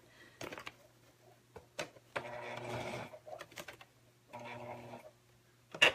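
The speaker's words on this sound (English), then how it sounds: "We're going to sew as close to the zipper as we can." A sewing machine fitted with a zipper foot stitches a zipper onto vinyl in short, close bursts of rapid mechanical chatter, separated by pauses and small clicks, fairly quiet overall.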